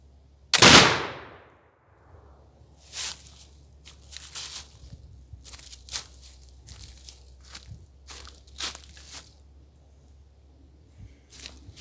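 A single sharp, loud rifle report rings out from a squirrel rifle firing a light home-cast bullet during sight tuning outdoors, then fades. Faint scattered crunching and shuffling noises follow.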